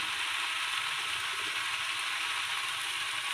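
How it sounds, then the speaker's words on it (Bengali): Amla (Indian gooseberry) frying in a pan for pickle, a steady, even hiss of sizzling oil that continues unbroken throughout, close and moderately loud, with no voices. "এবার অনেকটাই ভাজা হয়ে এসেছে এবার আমি এর উপরও লঙ্কা দিয়ে দিলাম"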